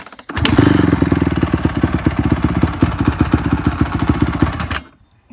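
A motorcycle engine without choke runs at a fast, uneven idle with sharp popping pulses close to the microphone, then cuts off abruptly into silence.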